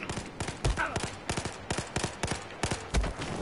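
Rapid handgun and rifle gunfire in the video game Battlefield 4, a dense, fast string of sharp shots with a few heavier bangs, fairly quiet in the mix.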